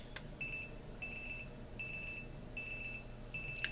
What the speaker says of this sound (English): Very light alarm ascension